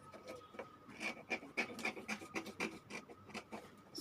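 Scissors cutting fabric for a pencil dress, a close run of quick rasping snips and rubbing strokes in an uneven rhythm, fairly quiet.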